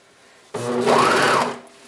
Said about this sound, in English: Okay, so now I'm starting the other leg hole.